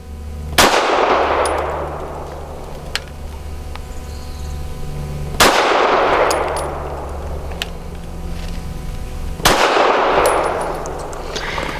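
Walther PDP 5-inch Compact pistol fired three times, loud close reports spaced about four to five seconds apart, each followed by a fading ring, with light clicks and handling noise in the gaps.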